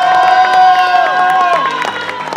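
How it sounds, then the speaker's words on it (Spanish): A festive crowd at a mayordomía celebration claps and cheers for the novenarios. A loud wash of applause and whoops sits under a sustained horn-like musical tone that slides downward partway through. "Un fuerte aplauso también para los novenarios"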